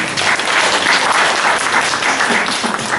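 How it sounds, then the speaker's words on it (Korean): On Easter Sunday, a church congregation gives a warm round of applause to welcome visiting newcomers, a full, even clatter of clapping from many hands. "박수 한번 해주시고"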